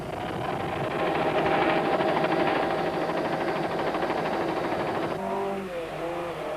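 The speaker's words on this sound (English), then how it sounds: "Die Evertse Harding Golf jaag oor die nek met al 4 wiele wat gly en 'n gesonde brul van die 16-klep enjin" Loud, sustained roar from the 16-valve engine of a VW Golf rally car charging over a rise with all four wheels sliding, holding steady before the pitch shifts near the end.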